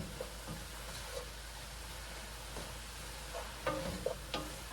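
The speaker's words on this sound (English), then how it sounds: "2 teaspoons of dried rosemary and 2 teaspoons of Italian seasoning. And we're just going to stir it around a little bit." Dried rosemary and Italian seasoning being stirred into a pot of hearty vegetable stew, soft scraping and clinking of a spoon against the pot over a faint low sizzle, quiet and close.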